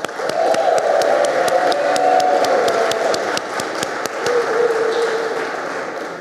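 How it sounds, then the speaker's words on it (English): At a gala benefit show, an audience claps steadily for several seconds, with distinct individual claps standing out over a crowd murmur and a brief cheer. "So let's give you a round of applause."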